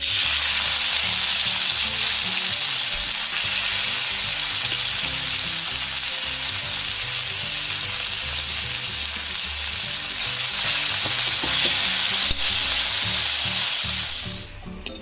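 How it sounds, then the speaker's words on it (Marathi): Chicken pieces sizzle in hot oil in a pan for Goan chicken fry, a loud, steady, close hiss that lasts throughout with only slight shifts in intensity and dies away at the very end, with no one talking. "आता आमी त्या चिकनाची फोडी घालया"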